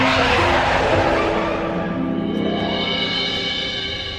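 A cartoon-style sound effect of a car skidding just before a collision: a loud, close tire screech with a high squeal that sweeps and fades over a few seconds, heard alone.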